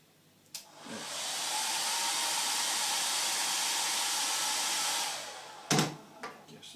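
A heat gun on vinyl wrap over car trim blows a loud, steady airy roar for about four seconds, then cuts off. Brief handling knocks come just before and after it.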